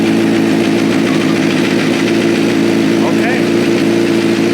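A motorcycle engine runs at a steady idle after starting, a loud constant close-up drone, with a brief spoken word over it.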